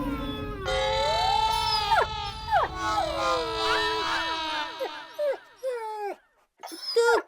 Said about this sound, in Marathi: तो कुत्रा का रडत होता ते माहिती नाही